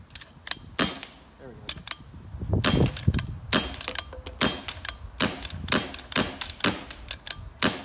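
An Empire Sniper air rifle fires a run of sharp, close cracks, mixed with mechanical clicks and clacks of the action between shots, in an uneven rapid rhythm.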